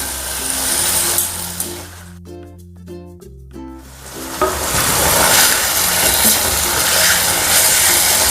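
Fenugreek leaves go into a hot kadhai of spices for brinjal bharit, making a loud, close sizzle. A humming, tonal noise breaks in briefly partway through before the sizzling surges back strongly.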